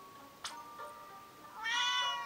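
A cat meows in a quiet room: one short cry early, then a louder, drawn-out meow near the end, close and alone with no talking over it.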